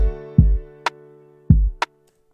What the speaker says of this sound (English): when you turn on the plugin, which is the parametric EQ, and the kick, it sound like this